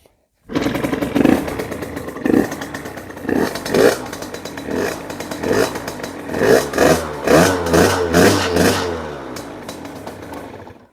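A small Derbi moped engine, with a newly replaced top end, sputters to life and revs repeatedly, loud and close, with rising and falling bursts of engine noise and some mechanical clatter.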